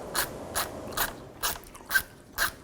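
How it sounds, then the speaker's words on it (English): Six evenly spaced ratchet clicks from a wrench driving an E5 reverse Torx socket, loosening intake manifold studs on a 2007-2014 Cadillac Escalade, each burst crisp and close with short pauses between. "Using an E5 reverse Torx bit socket, we're going to go ahead and remove these studs."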